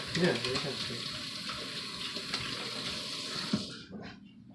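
Running water splashes steadily from a tap into a sink, with hands moving under the flow, before the water shuts off near the end; muffled voices underneath.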